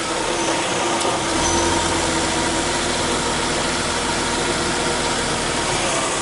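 A Mercedes-Benz C280 engine running at idle during a power steering flush, a steady, loud, even hum with a slight lift in the low rumble early on, broadband hiss throughout and no talk.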